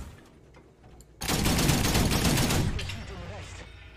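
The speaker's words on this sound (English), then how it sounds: "They also changed the 20mm sound, so it sounds very meaty when you're actually firing." A 20mm cannon in War Thunder opens up after a quiet second, firing a loud, dense burst of rapid shots for about a second and a half, then dies away into ringing echoes and scattered impacts.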